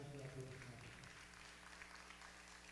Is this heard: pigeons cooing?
no